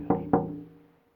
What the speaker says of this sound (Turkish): Gece sabaha karşı Laleli Baba'nın kapı çalınıyor.